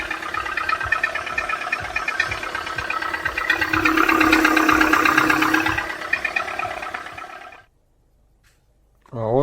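A cold car engine with knocking pistons runs close up, making a steady mechanical rattle with rapid ticking that swells midway, then cuts off abruptly into near silence.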